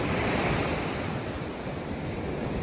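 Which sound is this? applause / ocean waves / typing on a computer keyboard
ocean waves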